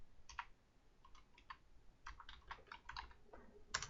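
Quiet typing on a computer keyboard, a short irregular run of soft close key clicks with brief pauses, no talking.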